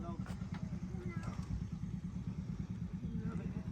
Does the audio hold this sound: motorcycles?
yes